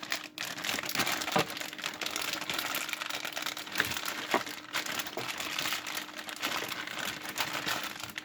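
Plastic wrapping crinkles and crackles close by, with repeated sharp rips and tugs as the packaging is pulled and torn open.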